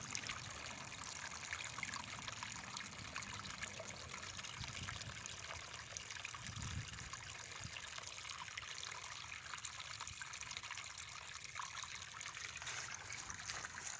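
A steady trickle of snowmelt water spilling from a pond overflow outlet, a continuous gentle burbling stream heard up close and alone, with faint low outdoor rumble beneath it.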